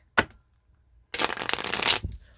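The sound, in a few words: shuffling a deck of cards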